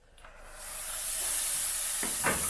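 A steam cleaner used to clean a guest house hisses up into a steady, loud broadband rush, with a couple of brief bursts near the end.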